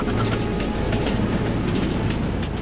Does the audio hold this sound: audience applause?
no